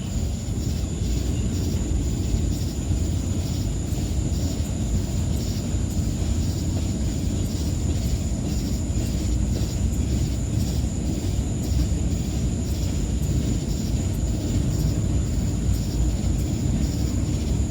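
Freight train gondola cars rolling past a stopped southbound train at a refueling stop, a steady loud low rumble with rhythmic wheel clatter and a high metallic ring, continuous and close.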